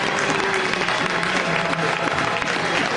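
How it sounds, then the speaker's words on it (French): A church congregation applauds during a sermon, sustained many-handed clapping at steady volume throughout, with a faint voice or tone briefly audible underneath. "Est-ce que vous pouvez applaudir pour lui?"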